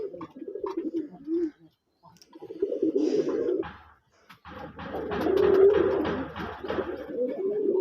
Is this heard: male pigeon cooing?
yes